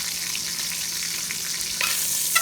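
Beef pieces frying in hot oil in a stew pot, a steady close sizzle with soft crackles and a brief stir near the end.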